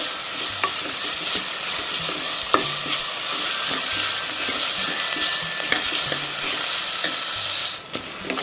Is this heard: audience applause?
no